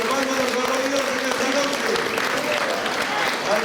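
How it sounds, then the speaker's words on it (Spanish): Church congregation clapping for the Lord during a Sunday evening Spanish-language service: steady, dense rhythmic applause from many hands fills the room, with a preacher's voice speaking over it. "Dele palmas al Señor. Palmas a Dios"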